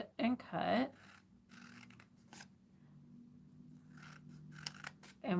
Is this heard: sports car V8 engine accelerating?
no